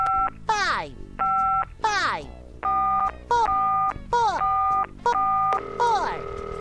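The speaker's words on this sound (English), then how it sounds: "And press in the phone number." Telephone keypad tones from dialing a number at a phone booth in a SpongeBob SquarePants video game, a rhythmic series of short loud beeps in quick succession, each press distinct.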